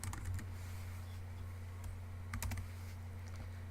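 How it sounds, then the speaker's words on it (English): A computer keyboard is typed on in short bursts of light clicking keystrokes, close and fairly quiet over a faint steady background hum. "I'm going to type in little faces to the side"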